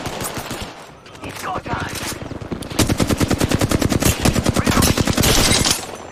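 Automatic gunfire in a video game fires in fast, evenly spaced bursts that are loud and close. The shots grow denser in the second half, and a voice briefly speaks over them.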